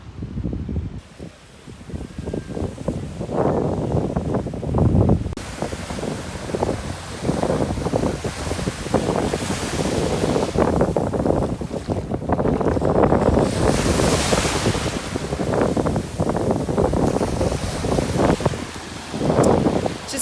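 Ocean waves surging and washing onto a Palm Beach shore, with steady surf roaring up close and heavy wind buffeting the microphone throughout.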